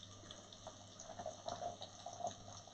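Water pours from a kettle into a jug while a tagine is being prepared, making a faint, close trickling and gurgling stream with small splashy pulses.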